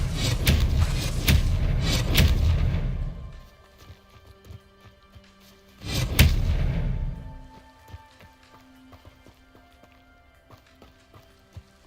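Spell blasts cast in the video game Hogwarts Legacy: two loud, broad whooshing bursts, the first lasting a few seconds and the second shorter, with quieter game ambience in between.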